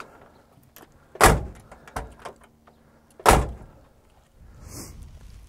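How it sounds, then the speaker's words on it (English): Doors on a 1964 DKW Junior Deluxe F12 saloon, a German Auto Union two-stroke car, shut with two solid, close thunks a couple of seconds apart, between faint rattles and clicks and ending in a softer rustle. "The doors shut real good."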